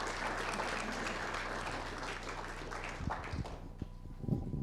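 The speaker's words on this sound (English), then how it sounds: "a big round of applause for our Utes" Broad, steady applause from a crowd at an Indigenous Peoples' Day celebration, a dense wash of clapping that thins toward the end with a few sharper claps standing out.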